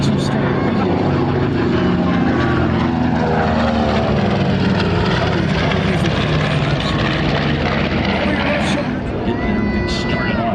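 A North American SNJ warbird flies past at a military air show, its propeller engine a loud, steady drone that fills the whole stretch, with faint crowd babble underneath.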